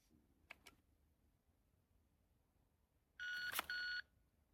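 A shot timer for dry-fire pistol practice gives one sharp electronic beep lasting under a second, preceded by a couple of faint clicks in a quiet room.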